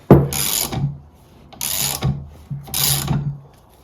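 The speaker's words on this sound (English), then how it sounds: "Now I have the puller attached and we'll see how easily it comes off." A mechanical puller working a part off a motorcycle engine: three bursts of ratcheting, clicking tool action with brief pauses between, close and fairly loud, with no talking.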